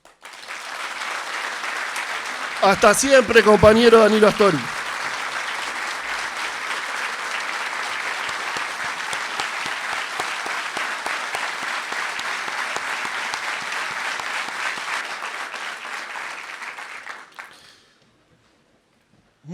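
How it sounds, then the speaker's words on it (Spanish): A standing crowd at a political gathering gives a long tribute ovation, a dense roar of clapping that runs about fifteen seconds before stopping abruptly; someone speaks loudly over it near the start. "te despide de pie con este aplauso"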